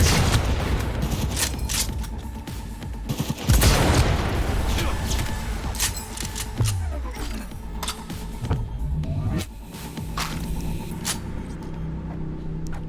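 Gunfire and explosions from the game Cyberpunk 2077 during a heavy firefight: a dense, rumbling barrage with sharp cracks and a big boom, steady and loud throughout.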